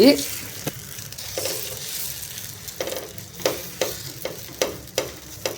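Rava roti dough being patted and spread by hand across a hot pan, with a soft steady sizzle and repeated light dabbing taps that get sharper and more regular toward the end.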